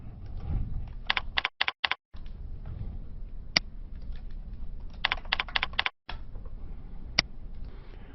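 A username and password are typed on a computer keyboard in quick clusters of light clicking keystrokes, close and crisp, with brief pauses and a couple of isolated sharper key taps.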